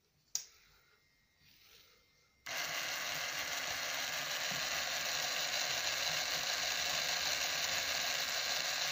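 Small DC motors driven through an L293D driver from an STM32 Nucleo board and powered by a 9 V battery start up after a faint click, settling into a steady, continuous whirring hum that runs unbroken to the end.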